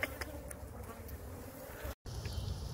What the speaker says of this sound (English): I'm just cooling off, waiting for the bees to calm down